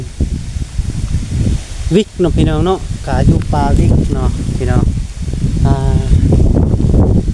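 Dry wind rustles leaves outdoors on a cool day with mild sun, a steady broadband hiss running throughout beneath someone talking.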